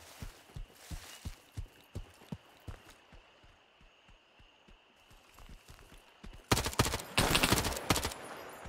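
Gunfire in the video game Escape From Tarkov: a run of evenly spaced single shots, a pause, then a loud, dense burst of rapid fire toward the end, with faint voices in the background.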